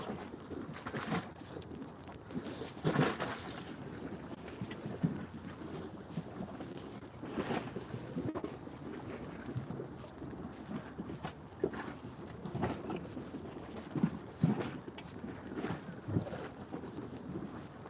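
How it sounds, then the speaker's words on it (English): Continuous wash of waves breaking and churning on HTO Park beach in Toronto, with gusts of wind buffeting the microphone and occasional distant bird calls. "So the waves are making a lot of noise."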